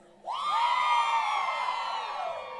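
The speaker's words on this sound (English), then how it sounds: "True Badgers, can we get a cheer?" Graduates at a Snow College commencement ceremony on the Ephraim campus break into a sudden loud cheer, with whoops and yells from a big crowd swelling at once and then slowly tapering off.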